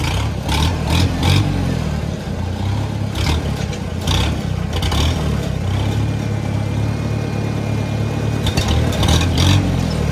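An Oliver Super 66 tractor engine idles steadily and close by, a continuous low rumble with a slight clatter and uneven stutter running through it, with no talk over it.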